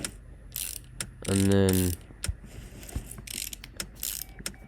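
Ratcheting clicks from bolts being fastened onto an engine, with headers going on, in the Car Mechanic Simulator game; a short, loud, buzzing run of clicks stands between brief taps, with a few words spoken.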